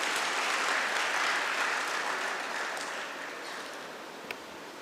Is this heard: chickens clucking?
no